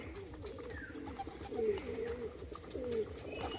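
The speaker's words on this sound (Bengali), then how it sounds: "এটা হচ্ছে মাদি পায়রাটা" Soft, low coos of a female pigeon repeat in short rolling phrases, close by, over a faint background murmur.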